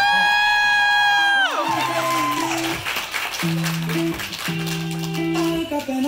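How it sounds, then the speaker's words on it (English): Wedding reception guests cheering, whooping and clapping for the couple's first dance, a lively crowd roar mixed under loud music with sustained sung notes. "So let's give them another round of applause."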